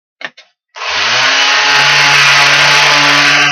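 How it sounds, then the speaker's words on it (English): Power sander stripping varnish from a wooden camping chuckbox, starting after two short taps with a loud, steady high whine and broad grinding hiss that runs on without pause. "I take a sander. I can do it by hand too, and I sand away the varnish."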